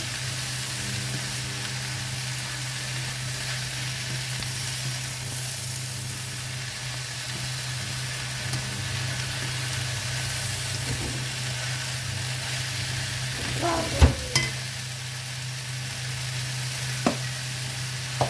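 Bihon noodles frying with mushroom and prawn in a pan: a steady hiss of sizzling oil throughout, with a few sharp clinks of a utensil stirring near the end.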